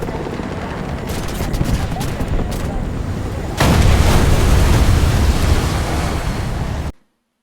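Rapid automatic gunfire from a Ka-52 attack helicopter in the combat game War Thunder, a dense continuous fusillade that grows louder and heavier midway, over a steady rotor-like roar, then cuts off abruptly.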